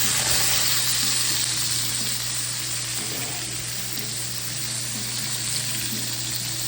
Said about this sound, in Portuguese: E já vou colocar os tomates com o manjericão.